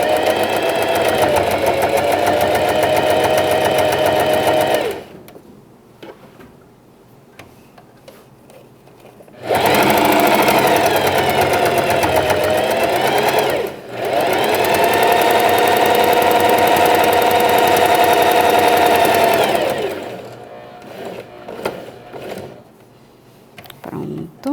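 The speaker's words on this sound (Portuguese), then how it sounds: "vou virar aqui e finalizar a costura" A sewing machine stitches a pet bandana in three loud, steady mechanical runs, separated by short pauses filled with quieter handling sounds.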